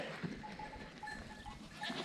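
Young goats bleat softly inside a goat barn on a farm in central Portugal, with faint short calls over a low rustling barn background.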